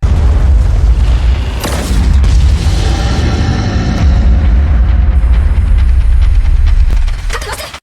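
A powerful gunshot blast strikes a kaiju in the anime Kaiju No. 8, a loud booming, crackling explosion with heavy low rumble that sustains and then cuts off.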